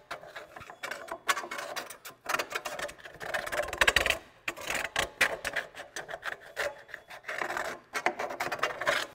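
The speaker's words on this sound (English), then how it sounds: "And get some of this rust off." A flat screwdriver scrapes rust off a Toyota drum brake, giving a steady, gritty rasping in repeated short strokes, close and moderately loud with brief pauses.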